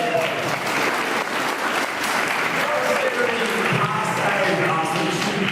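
A seminar audience applauds a young man with steady, loud, sustained clapping and crowd noise that fills the whole stretch.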